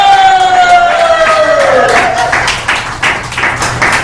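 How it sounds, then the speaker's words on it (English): Applause and cheering rise from an audience standing for Jackie Taylor at an Elk Grove networking meeting, with a sustained whistle-like tone fading out as dense clapping builds and continues. "Get a big warm cheer over to Jackie Taylor!"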